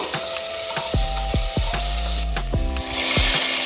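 Ground masala hitting hot oil for a tempering for stuffed brinjal masala crackles loudly and close, a continuous sizzle broken by several sharp metallic spoon taps against the pan, with no voices.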